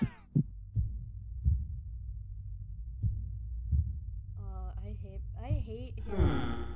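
A close, dull heartbeat thumps in irregular pairs during a Henry Stickmin video game, with no other sound around it at first. Near the end, wavering tonal game sounds come in over the beats.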